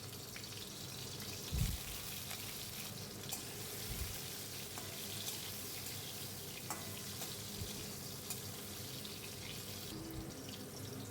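Pumpkin pieces frying in hot oil in a pan, giving a steady watery sizzle and crackle that runs evenly throughout with a couple of brief low knocks, close by and alone with no talk.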